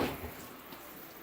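Water from a motorhome shower spraying onto the floor, a short close hiss of running water that is loudest at the start and then keeps going more quietly and steadily.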